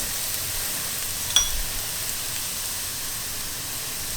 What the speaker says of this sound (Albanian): Tash 5 minuta e kena fërgu orizin në gjalp.